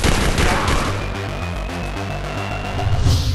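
Rapid bursts of gunfire in an Android video game rattle continuously under a droning synthetic background, loud and dense throughout.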